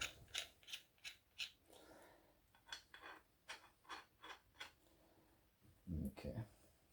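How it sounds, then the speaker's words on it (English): A crank removal tool works on a square taper bottom bracket with rusty threads, giving a steady run of sharp metallic ratcheting clicks at an even pace, closing with a heavier clunking burst. "Back in with the crank removal tool."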